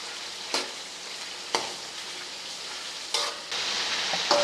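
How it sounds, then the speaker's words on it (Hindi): Chicken frying for a Peshawar-style charsi karahi sizzles in a karahi under a steady hiss, broken by several distinct scrapes and clinks of a spoon stirring at intervals, with no talking. "चम्मच बराबर हिलाते रहना है ताकि नीचे से लग ना जाए।"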